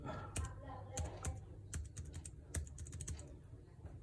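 Typing on a keyboard connected to a Xiaomi Mi Mix 2S phone running Windows, with quick, irregular clicky keystrokes close by and no talking.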